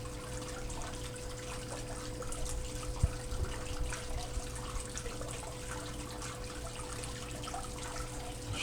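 Water trickles and splashes softly as material is rinsed off a blue bowl, a quiet continuous flow over a steady low hum, with one small knock partway through.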